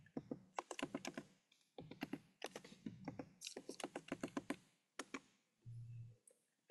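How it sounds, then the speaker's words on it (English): Computer keyboard typing in bursts of quick, close key clicks with short pauses between runs, ending with a brief low thud, no voices. "we're going to type up Netflix Party"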